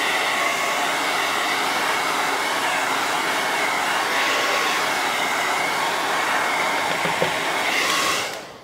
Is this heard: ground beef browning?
no